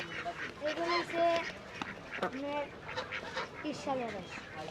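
Ducks at a busy city market quack and honk in short bursts. Several calls overlap, close by, amid crowd noise and talk.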